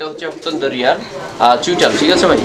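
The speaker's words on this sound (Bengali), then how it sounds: "কিভাবে ডাকটা দেয় দেখছেন মানে ছোট কবুতর তো মানে ওর ডাকটা মানে দেখতে অসাধারণ" A pair of short face pigeons coo in soft, rolling bursts close by, mixed with a person talking over them.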